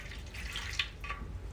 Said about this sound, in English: when you want to release the water inside